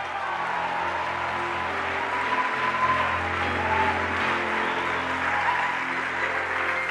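Church congregation applauding together in a sustained wash of clapping and crowd noise, steady and fairly loud, with voices mixed in.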